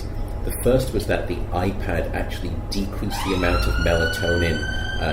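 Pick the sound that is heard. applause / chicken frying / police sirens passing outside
police sirens passing outside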